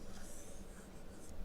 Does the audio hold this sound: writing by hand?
yes